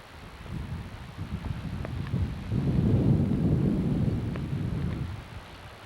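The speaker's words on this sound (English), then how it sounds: "Little rain." Light rain falls steadily during a nature walk at the Hawaii Nature Center on Maui, a soft, continuous wash that swells slightly toward the middle, with no voices.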